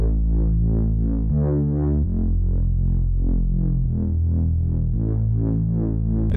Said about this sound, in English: it is just a simple Reese bass with a volume automation